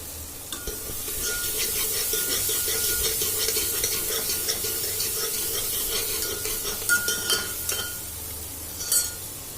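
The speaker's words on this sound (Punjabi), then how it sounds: "ਪਿਆਜ਼ ਟਮਾਟਰ ਹਰੀਆਂ ਮਿਰਚਾਂ ਜੀਰਾ ਲਸਣ ਲਸਣ ਤੇਜ ਪੱਤਾ ਇਹਨਾਂ ਨੂੰ ਪਾ ਕੇ ਆਪਾਂ ਹਿਲਾ ਰਹੇ ਹਾਂ" A spoon stirring onion, tomato, green chillies, cumin, garlic and bay leaf in mustard oil in a pan, with rhythmic scraping and rubbing strokes over a soft sizzle and a few clinks near the end.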